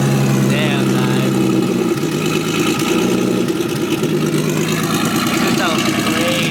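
A turbocharged Nissan 350Z engine idles steadily on its first start-up, a loud, close, rough rumble running throughout while people talk over it.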